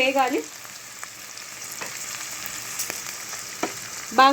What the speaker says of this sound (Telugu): చూసారు కదండి, బాగా వేగిపోతుంది